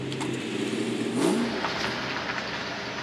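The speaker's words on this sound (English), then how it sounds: "Start those four cylinders of Japanese fury up. Let's hear that puppy roar." A four-cylinder Japanese car engine revs up with a rising whine that peaks mid-way and then settles into a steady idle, loud and close.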